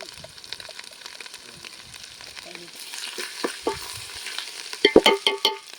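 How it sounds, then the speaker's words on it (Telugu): Onions and ginger fry in a pot for mutton curry, cooked outdoors among green trees beside a stream. A soft, steady sizzle is broken by scraping stirs and clinks that grow louder and sharper toward the end. "ఉల్లిగడ్డలు చూడు ఎట్లా ఫ్రై అయినా"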